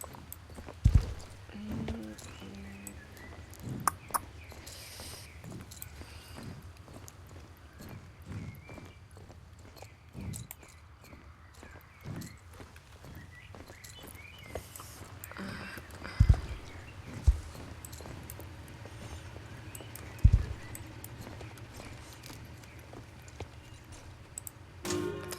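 Horse hooves clip-clop at a walk in the video game Star Stable, a steady, faint rhythmic stepping that continues throughout, with occasional louder knocks.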